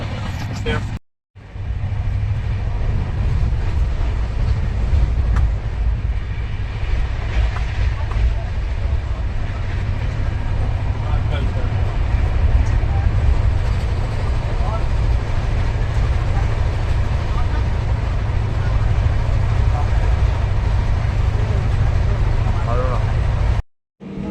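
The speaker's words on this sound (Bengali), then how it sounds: "এখন আমাদের ট্রেন ধানুয়াতে চলে এসছে" Steady low rumble and rattle of a moving passenger train running on toward Dhanbad station in India, continuous and loud with no voices, breaking off briefly at the start and end.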